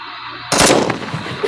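Gunshots in a Chuck Norris shooting meme break out abruptly after near silence, a loud, sharp blast trailing into rumbling echoes, with another hit near the end.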